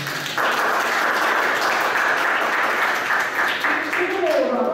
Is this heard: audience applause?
yes